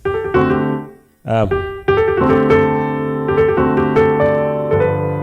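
A solo keyboard plays a short gospel-style run on the five chord: rich sustained chords, a quick sliding flourish near the start, then more chords and ornamented notes.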